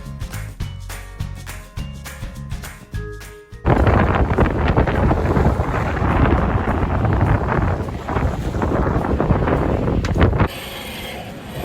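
Strong 20-knot southerly wind buffeting a single-handed sailboat clearing a lock, loud, roaring gusts battering the microphone after a quieter opening of knocks and clatter, then dropping off near the end.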